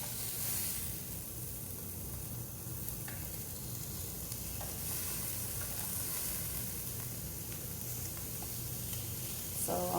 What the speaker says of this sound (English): don't you hear all that sizzling going on?